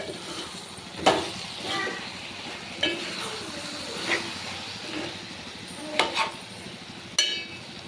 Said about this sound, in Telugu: దీంట్లో ఇప్పుడు మనం కొంచెం కరివేపాకు వేసుకోవాలి ఇలాగా వేసుకొని ఒకసారి తిప్పుకుందాం